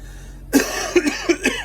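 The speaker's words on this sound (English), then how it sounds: "I've had this bloody cough for a day now." Several harsh coughs in close succession, starting abruptly after a quiet moment, fairly loud and close with no talking.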